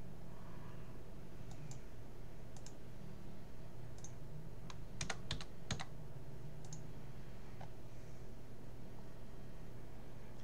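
A password is typed on a computer keyboard on a Windows machine: sparse, quiet key clicks in small clusters over a faint steady hum, with no speech.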